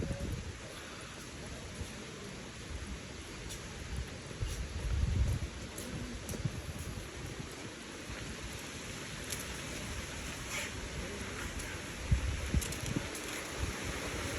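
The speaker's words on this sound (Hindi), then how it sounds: "अरे यार हवा चल रही है बहुत ठंडी।" Cold wind blowing on a morning walk in Rishikesh, a continuous broadband rush buffeting close to the microphone, with gusts swelling and easing over several seconds and no talking.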